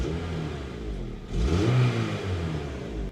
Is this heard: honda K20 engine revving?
yes